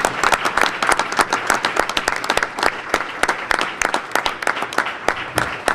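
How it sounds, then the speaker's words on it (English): A round of applause from parents and attendees at a school board meeting, steady dense clapping of moderate size filling the room, with a few louder individual claps standing out near the microphone. "We'd also like a round of applause for the parents."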